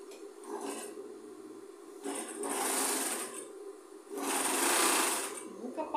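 A sewing machine stitches fabric strips together for a scrap-fabric rag rug, running in two longer whirring bursts with a shorter one before them, close and steady, while someone talks throughout.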